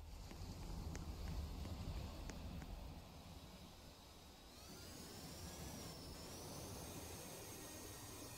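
A cargo jet's engines in Roblox Resort Tycoon 2 produce a steady, loud roaring whoosh with a rising whine partway through, heard alone without talking.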